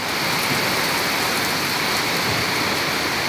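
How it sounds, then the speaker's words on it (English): A heavy downpour roars in a dense, steady, unbroken wash of rain during a storm with flooding, loud and close, with no voices. "we call these kind of rains up here a frog strangler"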